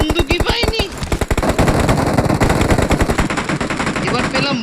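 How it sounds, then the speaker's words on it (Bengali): Rapid automatic gunfire from the mobile battle-royale game BGMI, loud and close, with dense repeated shots in quick bursts under brief game audio and faint voices. "ওর কানের পাশ দিয়ে গুলি গেল"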